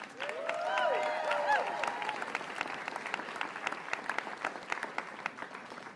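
A storytelling-show audience applauds steadily throughout, dense clapping that swells early and then holds, with a few cheers rising over it near the start.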